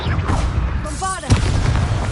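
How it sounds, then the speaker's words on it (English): A Bombarda spell explosion in the video game Hogwarts Legacy lands as one sharp, booming blast partway through, over a constant busy background of game sound. "Bombarda!"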